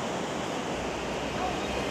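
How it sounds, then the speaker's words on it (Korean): Niagara Falls on the Canadian side roars in an unbroken, dense wash of rushing water, loud and steady throughout. "어느덧 미국 폭포를 지나 캐나다 폭포에 이르렀는데요"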